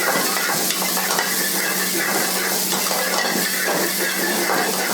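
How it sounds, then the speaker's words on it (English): Chopped tomatoes and green chili sauté in a hot pan with onions, a continuous close sizzle and hiss with light stirring scrapes throughout. "in goes chopped tomatoes, some green chili. And we saute it."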